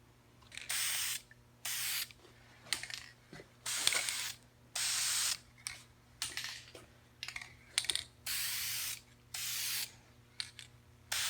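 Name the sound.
aerosol tint spray can spraying corner lights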